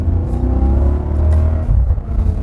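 A Maserati Quattroporte (M139) sports sedan engine revs up with a deep, throaty exhaust roar, loud and close, building steadily over a couple of seconds.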